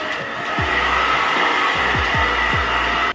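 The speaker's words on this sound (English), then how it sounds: "I'm gonna go in with my blow dryer again." A steady, loud blow dryer whirs continuously on afro curly hair, with a few short low thumps and sweeps as it moves, cutting off abruptly at the end.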